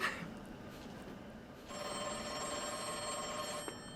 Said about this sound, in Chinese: 啊，我有电话啦